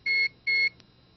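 A Dentsply CCS digital dental anesthesia system gives two short, clean electronic beeps in quick succession, loud and evenly spaced against a quiet background.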